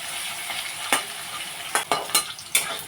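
Potatoes frying in a pan until lightly browned, a steady soft sizzle broken by several sharp scraping stirs of a utensil, close and with no voices.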